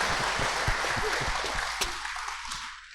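Audience at a motivational talk on mental resilience breaks into applause, a dense wash of clapping that holds steady then slowly thins out over a few seconds.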